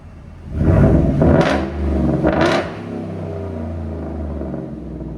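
A 2024 Ford F-150 5.0L V8 with a Flowmaster Outlaw exhaust revs sharply twice, roaring up and dropping back, then settles into a deep rumbling idle close by.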